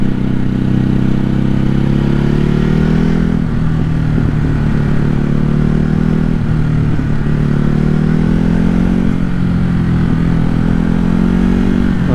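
Steady, loud engine roar of a 2021 Ducati Hypermotard RVE ridden on a road, a continuous throbbing drone with slight pitch swells as the throttle shifts, heard close with wind noise and no talk.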